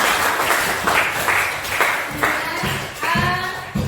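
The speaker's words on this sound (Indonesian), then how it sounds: "kasih aplaus sekali lagi untuk kita semua." Applause from a group at a teacher training session, steady close clapping throughout with a few sharper individual claps and a faint voice underneath.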